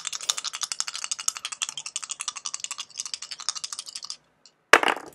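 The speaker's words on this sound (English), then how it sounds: "Now we're going to throw the dice that have no name." Dice rattle rapidly as they are shaken in a hand for several seconds, a busy clicking clatter, then a brief pause and a sharp close clack as they are thrown down; no voices.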